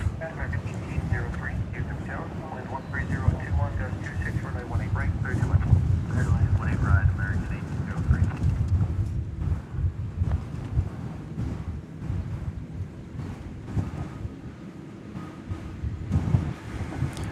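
Strong wind buffets the camera microphone outdoors at night at DFW Airport, a loud continuous low rumble that surges and eases, mixed with distant aircraft noise, while someone talks over it.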